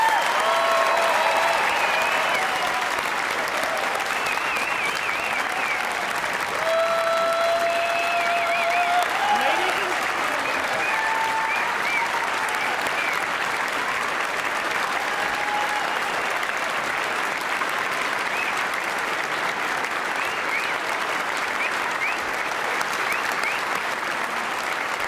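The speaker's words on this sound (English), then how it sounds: "they deserve a huge round of applause" A large audience at a 2015 Sterling Scholar awards event gives a long, steady round of applause, dense and sustained without pause, with faint tonal sounds in the background.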